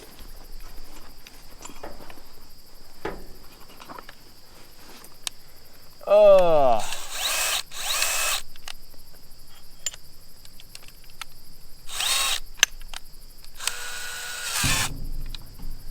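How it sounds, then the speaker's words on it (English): A power drill whines in a few short bursts, including a rising spin-up, amid quiet shuffling and background noise. "Let me grab the drill."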